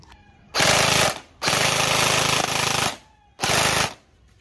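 Bohan MK8 V2 gel blaster running on an 11-volt battery fires three loud, rapid full-auto bursts, each a dense mechanical buzz lasting about half a second to a second and a half, with short silent gaps between them.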